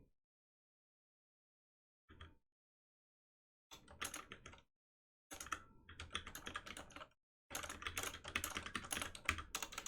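Bursts of typing on a computer keyboard, each run of clicks and key presses separated by short silences and growing longer and denser toward the end; close and clear, with no voices.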